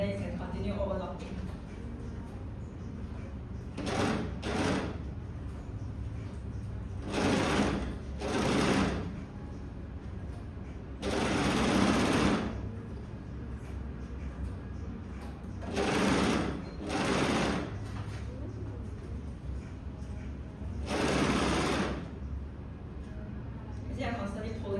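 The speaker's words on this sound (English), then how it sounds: "then you can continue overlocking" An overlocker sewing machine runs in repeated bursts as it serges the edge of fabric, with a steady rapid whir rising and falling at close range, and talk continues faintly beneath.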